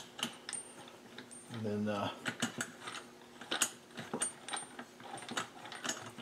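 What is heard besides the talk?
threading a puller onto a Husqvarna 372 chainsaw crankshaft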